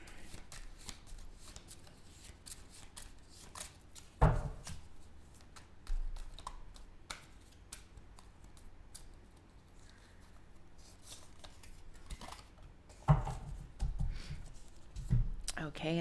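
Tarot cards are being shuffled by hand at close range, producing soft papery riffles and taps with a couple of sharper snaps where the deck is squared, and a voice speaks quietly at times.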